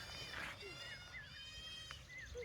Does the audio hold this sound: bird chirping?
no